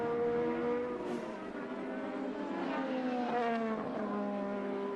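IndyCar race cars lapping the Sonoma Grand Prix road course in 2018, several engines whining together at high pitch with rising and falling tones as they pass, loud and continuous throughout.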